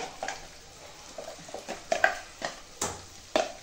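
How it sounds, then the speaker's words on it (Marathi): Spices for a mutton curry are stirred in a pan, giving a series of scraping, clinking spoon strokes at an irregular pace over a quiet background, with no talk. "आता याला सर्व असं हलवून घ्यायचं."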